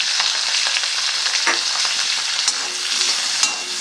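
Spices with salt, turmeric and chilli powder fry in a pan for a bean dish, a loud continuous sizzle with a few light stirring scrapes, close and alone.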